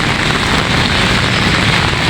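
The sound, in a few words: rain in Malioboro, Yogyakarta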